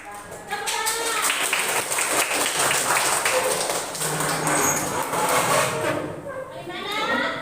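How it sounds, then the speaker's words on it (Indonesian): A class of children claps together in a sustained, dense patter in a classroom, with a teacher's voice heard before and after. "Tepuk tangan."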